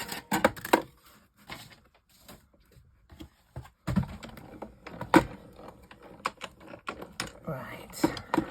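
Embossing tool or machine pressing the top of a paper stocking card, heard as irregular near clicks, taps and scraping bursts with short pauses, and occasional handling noise between them.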